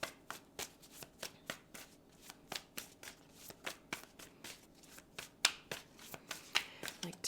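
Tarot cards shuffled by hand in a quiet room, a close series of soft crisp riffles and slaps repeating irregularly, fairly faint.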